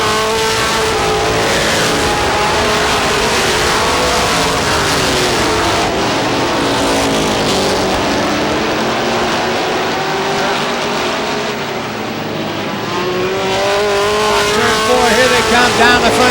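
Race cars roar down the front straightaway at Star Speedway in New Hampshire, a loud, continuous wall of several engines whose pitch rises and falls as they pass close by.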